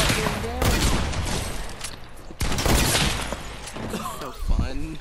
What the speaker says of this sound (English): This is my favorite shotgun.